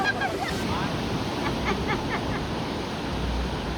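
Ocean waves break against rocks along an island shore at Hundred Islands, Pangasinan, a continuous close wash of surf with wind noise, while voices briefly call out over it.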